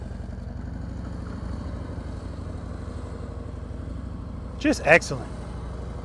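A motorcycle engine runs smoothly with a steady, even hum at slow speed throughout, with someone briefly speaking near the end during an advanced slow-speed riding practice session.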